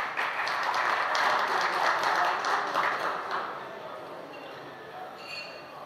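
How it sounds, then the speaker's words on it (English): An audience at a wealth-building panel discussion applauding a speaker, a steady wash of many hands clapping at moderate volume that gradually thins and tails off. "Please give a round of applause for Saul Friedman."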